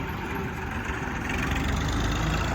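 An Indo Farm 2050 tractor, just back from delivering sugarcane to a mill, idles with a steady, even engine rumble that holds constant throughout, moderately loud with no talking over it.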